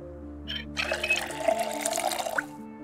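Water running from a tap in the zombie survival game Project Zomboid, a short, moderately faint splashing gush that starts abruptly and runs for about two seconds over a low background hum.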